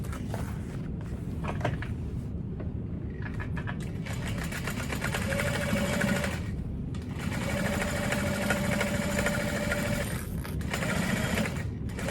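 Sewing machine stitching the side panels of a Rose Handbag, a fast steady mechanical whir running in continuous bursts with short pauses between seams, close and moderately quiet, with faint handling noises.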